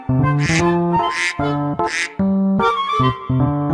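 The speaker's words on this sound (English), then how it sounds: "duck" A duck gives three short, rasping quacks, evenly spaced, heard over a bright, looping music track that plays throughout.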